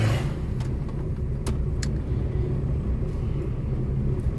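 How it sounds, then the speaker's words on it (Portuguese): Road traffic at late afternoon in a car, a continuous low rumble of engines and tires with a few brief passing whooshes, no one speaking. "Caramba, hoje o trânsito tá daquele jeito,"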